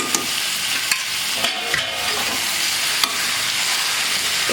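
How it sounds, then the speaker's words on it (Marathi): Vegetables being stirred into onions in a cooker for veg biryani, a steady close sizzle and fry under repeated scraping strokes of a spoon against the pot, with no talk. "एकदा हे सगळं असं व्यवस्थित मिक्स करून घ्यायचं. भाज्या आणि कांदा एकदम मिक्स झालेला आहे चांगला."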